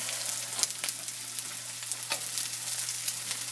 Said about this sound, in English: So we got our bacon rendering. I'm going to go ahead and add some onions